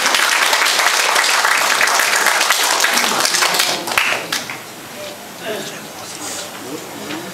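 Audience at a Korean inauguration ceremony breaks into loud, sustained applause that fills the room for several seconds, then thins out as a speaker begins.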